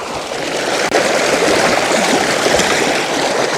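Mountain spring water rushes continuously nearby on the Aragats slopes, a dense, steady gurgling flow with no pause, apart from one brief dropout near the start.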